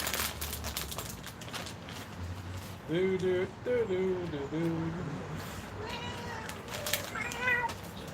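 A hungry cat meows in short wavering cries after canned cat food is set down, a few close calls in a row followed by a fainter higher meow, with light background noise.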